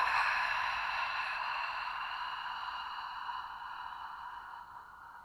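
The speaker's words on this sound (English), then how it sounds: "Nice long passive exhale." A long, slow passive exhale released during a pelvic floor breathing exercise, one smooth breathy rush of air that starts strong and gradually fades over several seconds, close and quiet with no talking.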